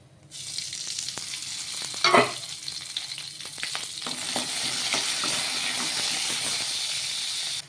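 Green chillies and peanuts fry in hot oil, giving a strong, steady sizzling hiss for several seconds, with a brief louder burst of crackle and stirring partway through.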